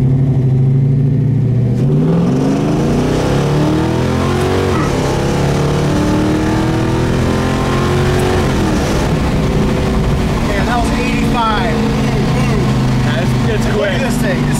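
A 1971 Chevy Nova engine idles low and rumbling up close, then revs up and settles with rising and falling pitch, someone talking over it much of the time.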